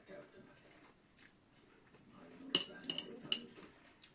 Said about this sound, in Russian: Вилка моя, наверное, стучит